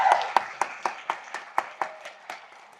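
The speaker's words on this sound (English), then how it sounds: "Let's give them a round of applause" Audience applauding faculty members at a nursing pinning ceremony, heard as a run of distinct, evenly spaced claps at moderate volume in a large room, with no talk over them.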